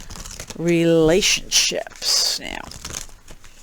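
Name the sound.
shuffling tarot cards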